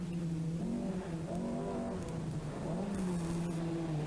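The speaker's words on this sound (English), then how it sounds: "But Coyne is going very quickly, and Demi Fitzgerald is not too happy with his tyres on this stage." Rally car driving fast on a loose-surface stage at the 1983 Fota Island Rallysprint, engine revving up and down in a continuous loud drone with gear changes, no voices.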